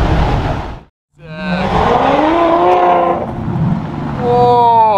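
Ferrari supercars, among them a LaFerrari, roar past on a city street, loud and close, their engines rising in pitch through the gears, with a brief gap between passes.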